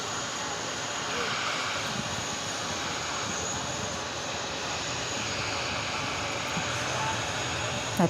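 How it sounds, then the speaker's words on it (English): An American Airlines airliner arriving from Barcelona at JFK produces a steady, broad engine roar that holds evenly for the whole stretch, with voices murmuring underneath. "That's American Airlines, flight 67, coming in from Barcelona"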